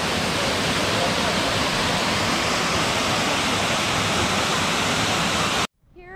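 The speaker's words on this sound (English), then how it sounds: "at the waterfall." Steady, roaring rush of the Saut Gendarme waterfall in Martinique, loud and broadband, filling the scene until it cuts off abruptly near the end.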